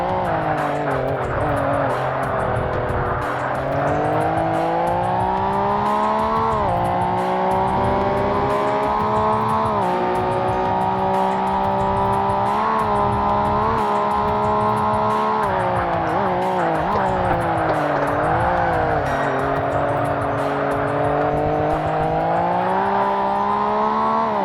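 Race car engines of a Nissan Skyline and a Ferrari roar continuously in Forza Motorsport (2005), with the pitch of the revs rising and falling through gear changes, loud and sustained, with occasional tire squeal.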